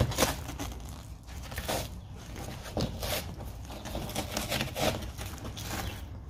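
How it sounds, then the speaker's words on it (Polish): Repeated sticky peeling and crinkling sounds as a trim cover is pulled off double-sided tape on a Toyota Corolla E12 door panel come in short bursts, close by and fairly quiet, with small scrapes between pulls. "Ściągamy osłonę. Ona jest na takiej taśmie dwustronnej."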